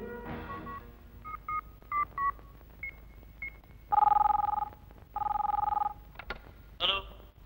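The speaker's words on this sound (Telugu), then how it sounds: "గోపాల్ రెడ్డికి ఫోన్ చేయి." Telephone keypad tones beep in a quick series of short DTMF presses, then longer tones sound as the number is dialed. The tones are clear and close in a quiet room, ending in a brief high electronic chirp.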